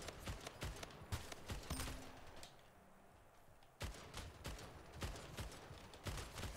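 Gunfire from the video game Splitgate comes in rapid bursts of sharp shots, dense and loud at the start, pausing for a few seconds, then resuming in quick repeated volleys, with no talk over it.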